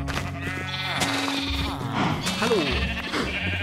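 Minecraft sheep bleat several times in a farm pen, loud and close, mixed with game background sounds while someone speaks briefly.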